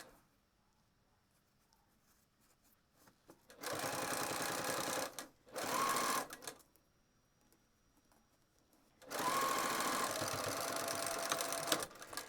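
A sewing machine stitches a fabric pouch with the presser foot lowered, running in steady, close whirring bursts of a few seconds each, separated by short quiet pauses.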